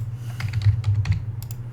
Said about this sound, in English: So I'm just going to type in some data here